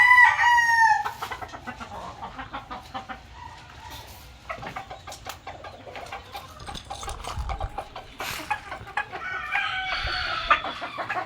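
A rooster crows loudly and close at the start, followed by hens clucking and soft farmyard fowl calls at a moderate distance, with scattered clicks and knocks and a fainter crow later on.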